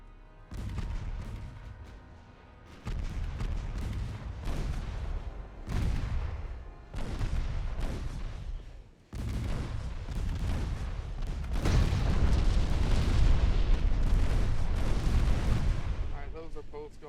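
Warship guns fire repeatedly in the naval battle game Ultimate Admiral Dreadnoughts, heavy booming salvos arriving in bursts with rumbling tails, then a sustained, dense barrage of overlapping blasts near the end.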